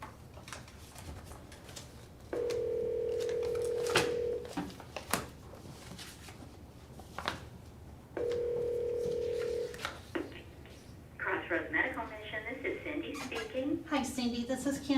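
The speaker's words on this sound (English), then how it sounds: "Could you get them on the phone" During a town council budget meeting, a phone line gives two steady dial tones of about two seconds each, separated by faint room noise and followed by a burst of dialing and line sounds.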